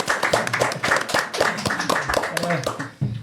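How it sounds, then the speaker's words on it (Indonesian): Studio audience claps for the guest speakers of a prosecutors' podcast on narcotics law: a short, uneven burst of close hand claps mixed with voices, fading out near the end. "Boleh tepuk tangan dulu teman-teman untuk narasumber kita."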